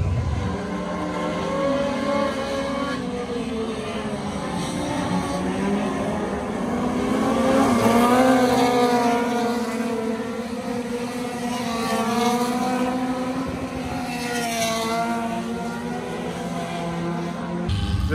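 A race car engine running at Talladega, a loud sustained drone with rising and falling revs across the whole stretch, no voices over it.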